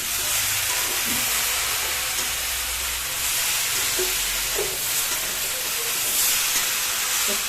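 Young bottle gourd fries in hot oil with a steady, broad sizzling hiss, close and moderately loud, with occasional faint clinks and stirring sounds and no voices.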